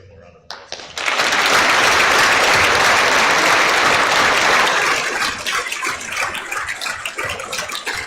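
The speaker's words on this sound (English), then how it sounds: "Let's give him a round of applause." A school assembly audience applauds loudly and steadily after a brief quiet start, the dense clapping holding for several seconds before thinning slightly toward the end.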